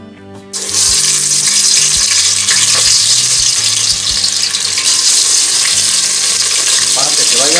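Chicken pieces dropped into hot oil in a pan burst into loud, continuous sizzling frying that carries on steadily, close and alone.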